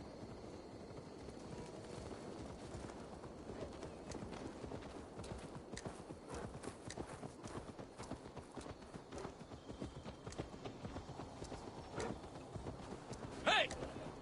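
Horse hooves clip-clop in a steady trotting rhythm in the video game Assassin's Creed Valhalla, fairly faint, with a few sharp knocks and a brief high whinny near the end.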